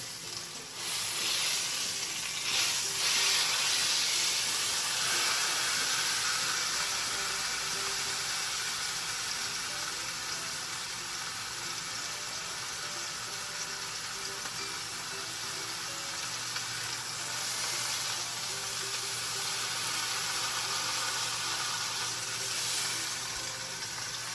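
Prime rib and pork tenderloin searing in a hot pan give a steady, loud, continuous sizzle with crackling spatter that holds evenly throughout, with no voices.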